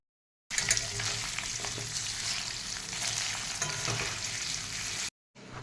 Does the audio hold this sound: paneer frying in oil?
yes